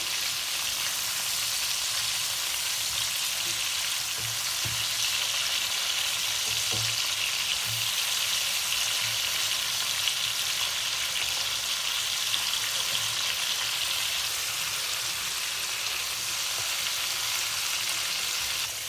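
Murrel fish pieces fry in a pan of oil as they are turned, making a constant, fairly loud sizzle with soft crackling and a few dull knocks throughout.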